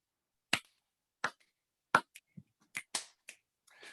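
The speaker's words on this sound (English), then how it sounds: "we always end it with 3 claps and a snap" Sharp hand claps and finger snaps from a group closing a theater-arts activity with young people crack out in a brief ragged sequence, loud and close against near silence, with no talking.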